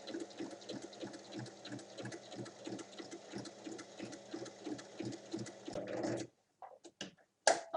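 A sewing machine stitches a bag pocket seam in a fast, steady run of rhythmic mechanical thumps, close and clear, then stops, followed by a few short clicks and handling noises.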